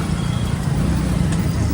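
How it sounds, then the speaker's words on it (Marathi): Road traffic fills a busy street in Badlapur: a continuous low rumble of cars, trucks and buses idling and moving nearby, steady and moderately loud, with no distinct voices. "इथं पण ट्रॅफिक आहे"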